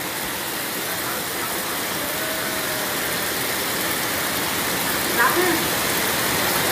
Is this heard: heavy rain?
yes